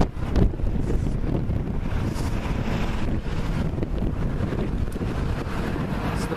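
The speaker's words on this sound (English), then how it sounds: "It's very, very windy" Strong wind roars and buffets the microphone continuously, a loud rushing noise with no voices.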